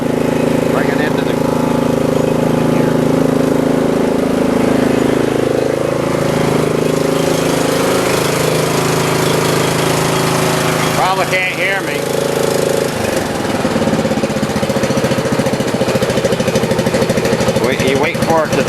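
Engine of a modified Troy 30-inch riding lawn mower running loudly and steadily up close, a constant rough drone, while someone talks over it.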